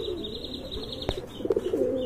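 A pair of Holi Cooper pigeons coo softly nearby in low rolling phrases, with a brief sharp click and a few faint chirps.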